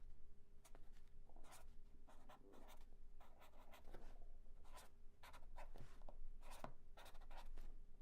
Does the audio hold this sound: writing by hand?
yes